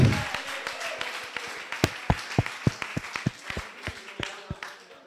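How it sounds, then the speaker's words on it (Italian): Audience at a security conference talk giving a round of applause: sparse, sharp individual claps that quickly build into scattered clapping and then thin out, fairly quiet in a large room. "un applauso"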